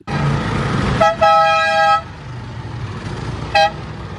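Mack truck horns honk near and loud over a rumbling engine: one long, steady blast lasting about a second, then a short, sharp toot a moment later.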